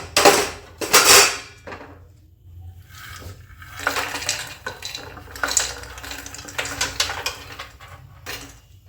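Fried makhana (fox nuts) being tipped from a pan into a bowl, with a few loud clattering scrapes and knocks of metal on metal near the start, then lighter rattling and scraping that continues unevenly.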